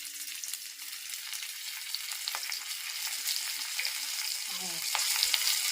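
Food frying in a pan in a village home kitchen, a steady close crackling sizzle with scattered pops and occasional stirring scrapes, continuing without any talk.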